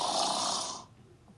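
A reader's voice imitates a bear's loud snoring, producing one long, rasping snore that fades away after about a second.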